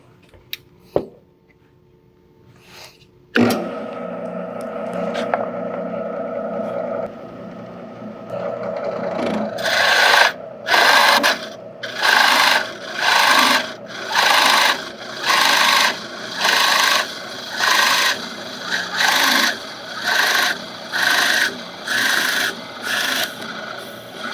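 A drill press bores into wood in repeated short pecking bites, a rhythmic rasping grind pulsing on and off about a dozen times after the motor spins up, with no talking.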